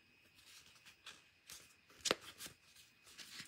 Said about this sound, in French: Je vais pas réussir à plier ma carte